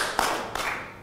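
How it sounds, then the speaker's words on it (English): A few scattered hand claps from ladies in a talk show audience, two distinct bursts over a steady background hum, brief and moderately close. "Clap your hands if you would try online dating."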